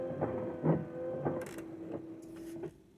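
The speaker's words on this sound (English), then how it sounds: "Windshield wipers" Windshield wipers on a Chevy S10 pickup: a quiet electric motor whir with rhythmic mechanical clunks roughly every half second as the blades sweep, plus brief rubbery squeaks and scraping, close and faint.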